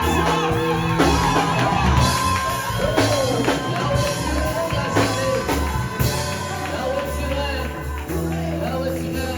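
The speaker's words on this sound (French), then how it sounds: "Est-ce que tu peux pousser des cris de joie?" A church congregation at an evening worship service shouts loud cries of joy, the voices rising over steady, dense worship music throughout.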